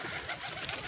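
Pigeons coo softly in a brief, low burst, somewhat distant, against a steady background hiss and without any talking.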